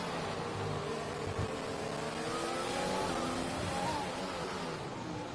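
Race cars in a racing video game roar through the Monaco circuit's swimming pool section, a steady, loud engine drone with gear changes, another car close behind, and no speech.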